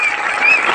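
Applause from an audience at a SAFE SHOP speech event, steady dense clapping at a constant loud level throughout, with no voices over it.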